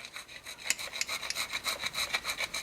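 Scraping grime off the engine of a 1962 AMC Rambler: quick repeated rasping strokes, close and fairly faint, in a steady back-and-forth rhythm of about six strokes per second.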